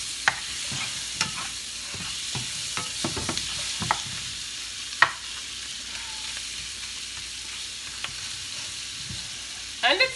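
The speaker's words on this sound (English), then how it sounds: "You know that smell of shrimp frying?" Shrimp fry in a pan with a steady soft sizzle, broken by scattered clicks and scrapes of stirring utensils, close by and fairly quiet.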